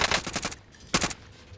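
Sniper rifle fire in the Warzone video game comes as a loud rattling burst of shots up front, then a brief pause and one more short, sharp burst.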